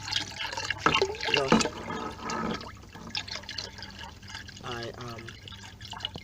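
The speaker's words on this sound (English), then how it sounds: "actually siphoning out the floor of the pond so as to ensure" Water siphoned from the floor of a fish pond, a steady wet trickling and gurgling flow close by under a man's speech.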